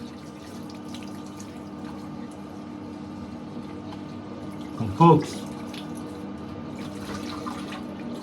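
Water runs steadily from a tap into a sink, a constant close hiss with a short clatter partway through, while someone speaks briefly at the start.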